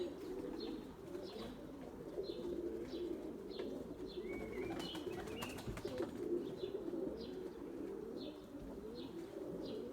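White pigeons cooing in a loft, a steady low murmur of several birds with repeated soft calls, light chirps and a brief flutter of wings partway through, fairly close.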